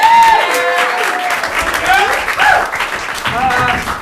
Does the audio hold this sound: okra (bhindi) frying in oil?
no